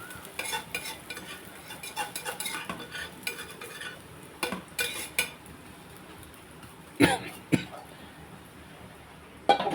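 An egg dosa cooks in a pan, soft sizzling under a run of spatula scrapes and clatters, followed by a couple of louder knocks of metal on the pan.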